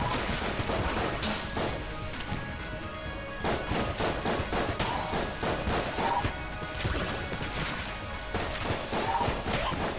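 Rapid bursts of video game gunfire and impacts in Enter the Gungeon, with dense overlapping shots and crashes sustained loudly from start to finish.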